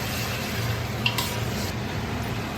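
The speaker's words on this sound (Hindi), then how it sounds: "इसको हम 2 से 3 मिनट तक भून लेंगे।" Mutton chops and rotis being stir-fried in a pot, a steady soft sizzle with faint scraping of a spoon against the metal and one brief clink partway through, no talking.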